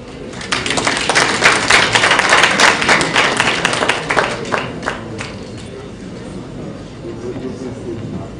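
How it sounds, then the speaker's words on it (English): Conference audience applauding, a dense wash of many hands clapping that swells for several seconds, then thins out and fades into scattered claps and murmuring. "Another round of applause for Chief Magistrate Jimbo"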